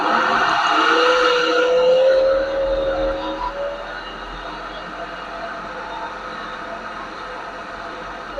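A 6 kVA alternator generator's engine runs loud and steady, with a brief rising whine early on, then settles into a constant droning hum that fills the whole stretch.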